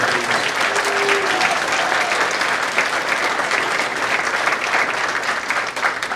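Sustained, dense applause from an audience in a school cafeteria made over into a jazz club, honoring the decorating team; steady and fairly loud throughout, with no clear talk on top.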